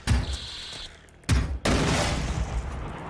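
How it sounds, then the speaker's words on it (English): Gunfire in the video game Generation Zero, a few heavy blasts with sharp onsets and ringing tails, loud and close, separated by short quiet gaps. "Maybe I should do semi-auto with this gun"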